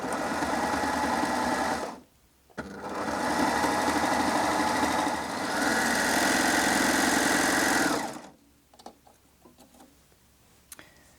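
An overlocker runs a flatlock stitch at close range, a loud steady mechanical whir in two long bursts with a brief pause between, then stopping into near silence with faint handling ticks.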